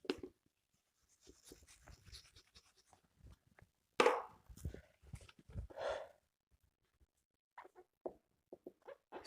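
Pen writing on paper while working a profit and loss problem for a commerce class, faint scratchy strokes in short bursts with pauses between, quiet and close, no talking.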